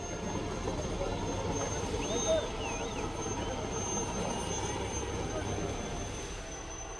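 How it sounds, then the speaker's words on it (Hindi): Army rescue helicopter flying over a flooded river in monsoon weather, a continuous engine and rotor hum that stays steady and moderately distant, with faint background sounds. "भारतीय फौज के जाबाजों ने हेलीकॉप्टर से रेस्क्यू शुरू किया।"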